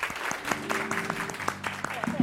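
An audience at a club's talk-show event gives a short round of applause to vote for a favourite, scattered claps mixed with a voice talking over them and some tonal murmur.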